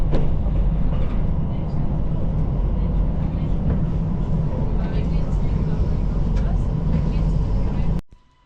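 Train ride through the Swiss mountains near Brünig, with a steady loud low rumble of the carriage rolling along for several seconds before it cuts off abruptly near the end.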